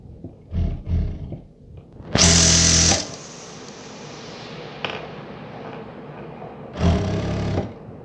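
A sewing machine stitching a seam on a shawl runs in two loud whirring bursts, one long and one shorter, separated by quieter handling noises and faint low-frequency room sound.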